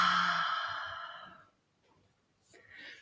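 A deep exhale through the mouth during a stretching session: one long, soft breath out that fades away, followed by a fainter breath after a short pause.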